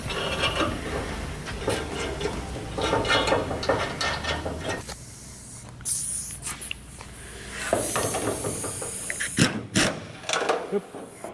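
A socket wrench ratchets in repeated bursts while GT bonnet vents are fitted to a standard XA bonnet, close and fairly loud, with clicking runs broken by brief pauses and handling clatter.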